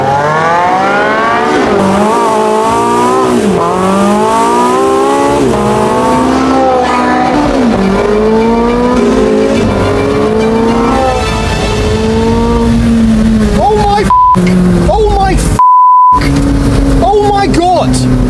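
Porsche 918 Spyder launching hard in sport mode, its engine climbing through rising rev sweeps with gear shifts, loud and close, while people talk excitedly over the acceleration.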